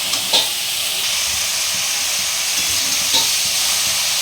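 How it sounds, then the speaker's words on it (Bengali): Potato and eggplant pieces frying with spices in a pan for a spinach dish hiss steadily up close, with a couple of brief scraping knocks as they are stirred. "এই যে এটা আবারও নাড়বো"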